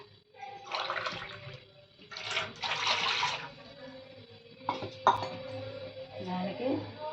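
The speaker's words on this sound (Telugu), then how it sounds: "రెండు గ్యాసులకి 2 గ్యాసులు నీళ్ళు పోస్తున్నా." Two glasses of water are poured into a pot to make rice flour dough for crispy chegodi, coming as separate splashing bursts up close while someone talks.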